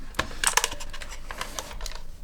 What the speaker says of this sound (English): each of the clicks sound really traditional, and it combines a perfect combination of RGB and a modern gaming keyboard